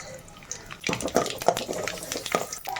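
Mustard seeds splutter in hot oil nearby, an irregular crackle of sharp pops over a low sizzle.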